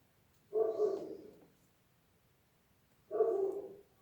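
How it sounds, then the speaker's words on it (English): A dog barks twice, each a single loud, drawn-out woof that trails off, spaced about two and a half seconds apart, close by in a quiet indoor room with no talk. "the dog is barking and not howling"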